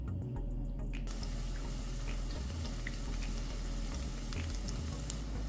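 Onion rings for pakora frying in hot oil, a dense continuous sizzle and bubbling that kicks in sharply after a moment of quieter crackle and stays steady throughout.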